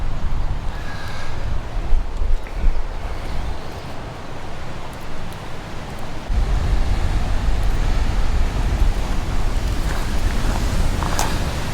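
Rough, wild surf pounding the shore at Laupāhoehoe beach, a steady roar of churning water with wind noise, growing heavier and louder partway through; no speech.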